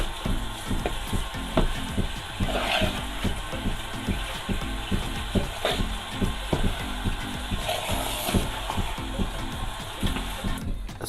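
Semolina roasting in desi ghee over low heat for panjiri, a steady soft sizzle with repeated scraping and stirring strokes throughout, close and fairly loud.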